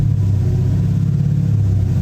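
Dodge Scat Pack engine held at a steady 2,000 RPM in neutral, a loud continuous low rumble with a constant drone and no change in pitch.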